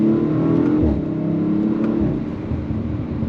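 A 2025 Audi RS5 accelerating briskly at partial throttle, a steady engine drone rising in pitch and then settling, close and loud throughout.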